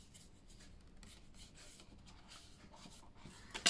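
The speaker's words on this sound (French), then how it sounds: "On va marquer nos plis comme ceci." Paper being scored along fold lines during a notepad-and-pencil craft project gives soft, repeated rubbing and scraping strokes, close and quiet, with a sharper rustle at the end.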